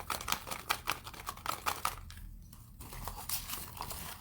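Papery rustling and crinkling in quick repeated bursts, like slips being shaken and shuffled in a bag, fairly quiet and close.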